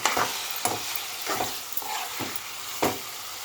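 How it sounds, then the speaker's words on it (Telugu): Chicken pieces are stirred in hot oil with roasted coconut, giving a soft continuous sizzle broken by several scraping stirs of the spoon, close and fairly quiet. "చికెన్ వేసుకోవాలి ఆయిల్ అయింది కలుపుకోవాలి చికెన్"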